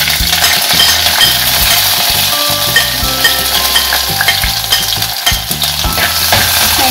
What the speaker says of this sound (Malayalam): ഇനി നമുക്കിതിലേക്ക് അരിഞ്ഞു വെച്ചിരിക്കുന്ന ഇഞ്ചിയും വെളുത്തുള്ളിയും കൂടെ ചേർത്ത് കൊടുക്കാം.